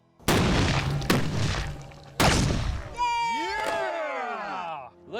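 A Swedish cannon made from beer bottles fires outdoors with three loud, close booming blasts a second apart, followed by people cheering and whooping.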